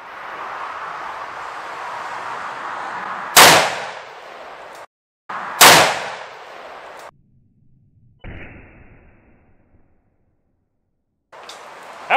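A Remington 700 CP rifle fires twice at a spaghetti squash outdoors, two sharp loud cracks a couple of seconds apart over steady background noise, followed by a fainter third impact-like bang and quiet.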